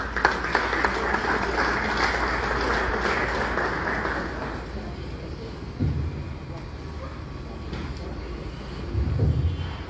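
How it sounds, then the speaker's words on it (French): Applause at a farewell ceremony for Sister Tania: dense, steady clapping and cheering from a crowd for about four seconds, then fading into quieter room noise with murmuring voices. "Pendant qu'elle avance, on acclame pour l'encourager."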